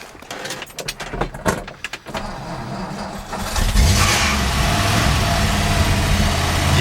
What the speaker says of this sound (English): First, I'm going to start it up.